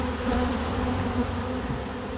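Honey bees buzz at an open hive during a honey harvest, a dense, steady swarm hum that stays close and loud for the whole stretch with no talking.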